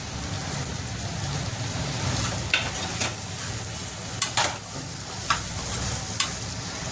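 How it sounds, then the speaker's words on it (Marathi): A peanut and jaggery mixture sautés in a pan over a low flame, giving a steady soft sizzle with occasional scraping stirs of a utensil throughout. "बारीक गॅसवरती चांगलं परतून घ्यायचं"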